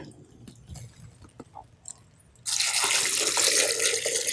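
Water pours into a blender holding semi-frozen cranberries, a loud steady splashing rush that starts abruptly midway and continues to the end, after quiet handling noises.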